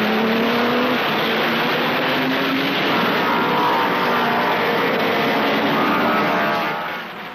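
1930s German Grand Prix racing cars roar past in a continuous, loud engine drone, the pitch sliding slightly as the cars pass before the sound tails off at the end.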